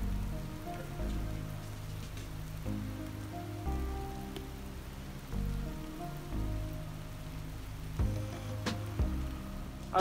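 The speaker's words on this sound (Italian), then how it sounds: "Piove." Steady rain patters on the surface of Lake Antille at a carp-fishing spot, a dense continuous hiss of drops lasting throughout with low rumbling underneath and no voices.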